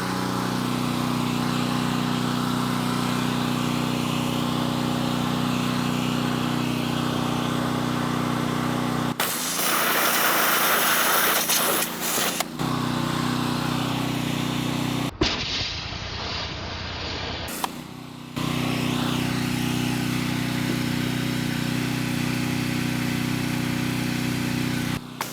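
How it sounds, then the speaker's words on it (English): A gas pressure washer engine runs loud and steady as the jet is fired at a leather work boot, with abrupt changes as the spray hits and cuts off. "I'm curious if the pressure washer will just cut right through the leather and then also cut through your foot."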